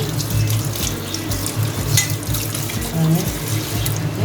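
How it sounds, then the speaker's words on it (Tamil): Emperor fish is rinsed under a running kitchen tap, with a steady rush of water and irregular splashing close by throughout. "தண்ணியில் லேசாக கழுவிப்போம் மீனை"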